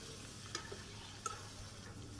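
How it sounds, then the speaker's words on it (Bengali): Chicken pieces being stir-fried with spices in a village kitchen make a quiet, continuous sizzle, with a few sharp metallic clicks and scrapes from the stirring spoon. "এই যে মশলার সাথে ভালো করে আমি মিশিয়ে কষিয়ে নিচ্ছি"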